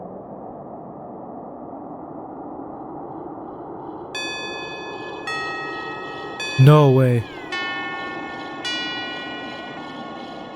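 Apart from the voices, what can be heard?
synthesized gong sound from a VCV Rack patch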